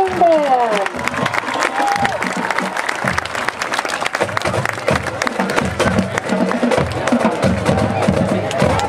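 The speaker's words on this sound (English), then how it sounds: "And one more round of applause for the Gonzales High School Mighty Apache Marching Band." Crowd applause with cheering for the Gonzales High School Mighty Apache Marching Band at a football game, steady and dense throughout with some voices and shouts mixed in.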